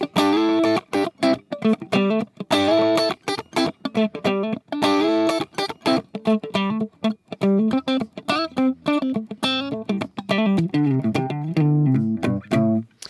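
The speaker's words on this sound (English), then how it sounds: "when it's on the edge of breakup, is if you just roll the volume back a little bit" A funky electric guitar, pickup selector in an in-between position and volume rolled back slightly to sit at the edge of breakup, plays choppy rhythmic chords and short riffs continuously, with a slightly gritty tone, close and fairly loud.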